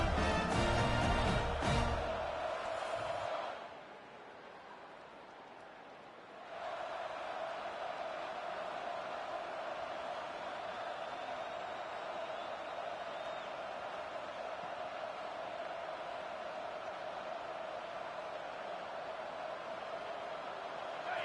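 Video game stadium crowd in EA Sports College Football, Penn State versus Clark Atlanta: a broad, steady roar of a large crowd, briefly dipping then holding loud and even.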